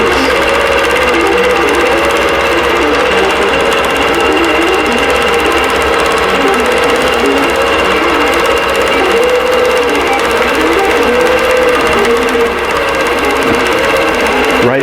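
Sewing machine stitching a quilted Easter-themed table runner, running loud and steady at a constant fast pace close to the mic with no pauses and no one talking.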